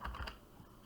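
A few quick keystrokes on a computer keyboard enter a class name. The brief, close clatter of taps fades quickly, and no one speaks.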